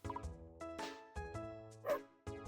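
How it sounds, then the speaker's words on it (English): A friendly farm dog in the video game Fields of Mistria gives a few short, soft yips and barks in quick succession, quiet and mixed with light game music. "Good dog."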